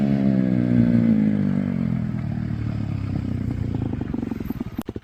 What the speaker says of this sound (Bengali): তাই কি অনেক কষ্ট করার পর আমার কেটিএমটা স্টার্ট হয়ে গেল।